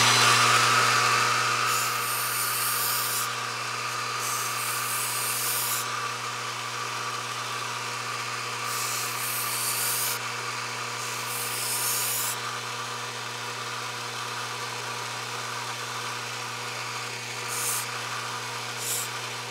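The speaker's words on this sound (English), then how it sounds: "I like the flexibility in the sanding strip. It makes it easier to sand contoured shapes." A flexible sanding strip rubs over a contoured wooden shape in several short, bright, scratchy strokes separated by pauses, over a steady low motor hum.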